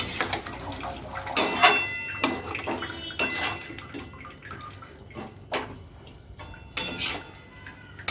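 Spiced flat beans and potatoes are stirred in a pan with a utensil, giving sharp scraping clinks in an irregular rhythm over a soft sizzle. The sound is close and moderately loud.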